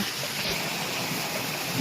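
A small waterfall stream trickles down the hills near the Thotapalli Shiva temple, giving a steady, soft wash of running water with no break across the short span.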